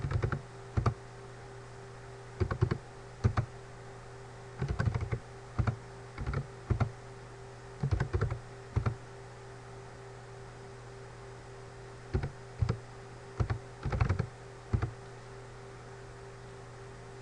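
Someone types on a computer keyboard in short, irregular bursts of clicking keys, separated by pauses, over a steady low electrical hum.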